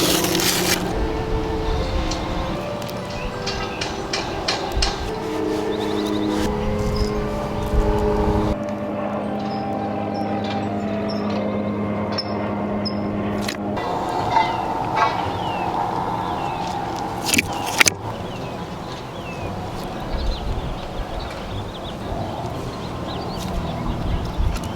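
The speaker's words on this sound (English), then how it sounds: "It's a lot of construction going on in the back" Outdoor construction work rumbles steadily in the background, with machinery drone, scattered knocks and clanks, and a few sharper bangs, all at moderate distance.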